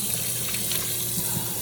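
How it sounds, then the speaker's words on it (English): Cold tap water runs steadily over freshly boiled lasagna noodles in a home kitchen sink, a continuous close rushing splash with no talk. "I'm gonna take them here and run them under cold water."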